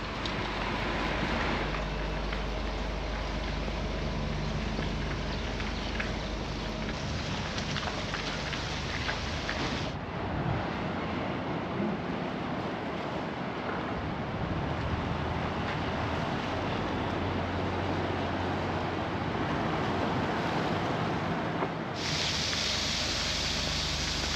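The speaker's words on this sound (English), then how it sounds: "If you can hear a sound in the background, it's all coming from this pipe." Steady, loud rushing of water through a pipe in Llanes, Asturias, on Spain's north coast, a continuous broad hiss that shifts slightly in intensity, with no talking.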